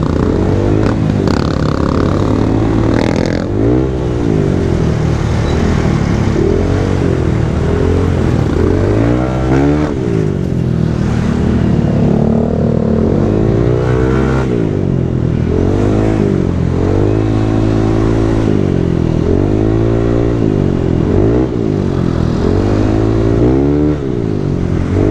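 A Honda Click motor scooter engine revs up and down repeatedly, loud and close, with rising and falling pitch sweeps and some clattering.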